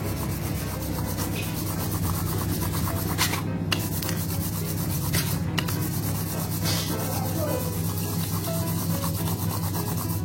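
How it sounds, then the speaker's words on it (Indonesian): Steady hand sanding of a squeaking rear brake lining with improvised abrasive, a continuous close rasping rub with a low hum beneath, running without pause. "amplas sebisa mungkin dan sebagus mungkin agar yang kilat-kilatnya hilang"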